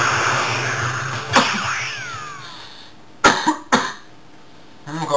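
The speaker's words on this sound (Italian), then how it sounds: "cercate di non farci tanto caso a questa tosse" A single harsh cough, then a quick burst of two or three more coughs close to the microphone, with quiet gaps between.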